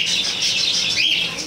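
Pet cockatiels and conures in an aviary on a bird farm chirp continuously, a loud, busy wash of high overlapping calls close by.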